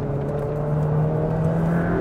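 Ferrari F8 Spider, a mid-engine sports car, under full throttle on a fast road, its engine a steady, loud, close drone with a gradually rising pitch and no talk.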